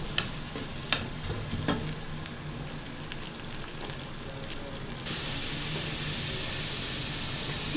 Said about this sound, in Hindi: इसमें दोबारा प्याज फ्राई कर रही हूँ।